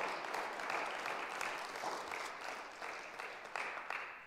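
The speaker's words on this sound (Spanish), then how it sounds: "Pongamos otro fuerte aplauso a Cristo" A church congregation breaks into strong, continuous applause, a dense, even roar of many hands clapping in a large room, steady throughout and fairly distant.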